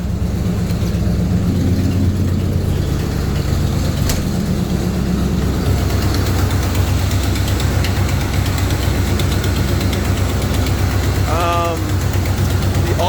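A 1977 Corvette engine idles with the hood open, a steady low rumble throughout while someone talks over it.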